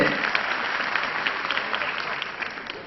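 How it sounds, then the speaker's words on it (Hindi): Applause from the audience at a Hindi comic poetry gathering, a thick, continuous crowd clapping that holds steady and fades slightly toward the end, alone without speech. "अगर पसंद आई हो तो तालियां तो बजाइए।"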